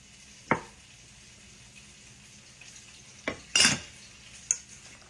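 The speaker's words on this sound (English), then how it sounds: "So now I'm going to put some flour on it, and tonight I'm using self-rising." Marinated chicken fingers dredged in self-rising flour, heard as a few sparse, close scrapes and soft thumps against a bowl, separated by quiet pauses.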